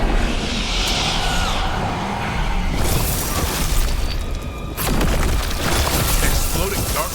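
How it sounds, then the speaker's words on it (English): Darkspawn bursting apart in Dragon Age: The Veilguard, a dense roaring blast with crackling debris that carries on for several seconds, a second burst arriving partway through, with a faint voice underneath. "Exploding Darkspawn?"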